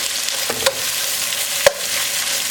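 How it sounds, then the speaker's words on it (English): Thinly sliced yellow and red onions fry in a pan for an Indian spinach chicken dish, with a steady close sizzle and two brief sharp clicks of stirring against the pan. "after like 5 minutes of cooking down your onions"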